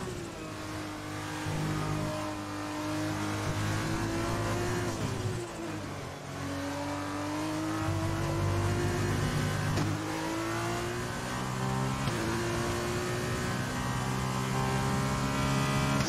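Formula 1 car engine from the F1 2020 racing game at a wet Red Bull Ring feature race, loud and close, climbing through revs with gear-shift dips and sweeping pitch changes, continuous with no talk.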